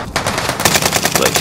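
Rapid SMG fire in Call of Duty Warzone on Caldera, a quick, loud burst of closely spaced shots sustained through the whole moment.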